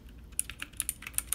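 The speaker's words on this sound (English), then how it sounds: "I'm gonna show you guys the keyboard now." Keys on a miniature gaming keyboard clatter in a quick, uneven burst of sharp clicks, close and clear with no voices.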